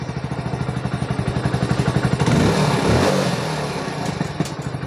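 A BS6 motorcycle with a check-engine light fault (code P1531) starts up, its engine pulsing in a rapid, even idle that swells briefly in the middle before settling back, close and loud with no talk.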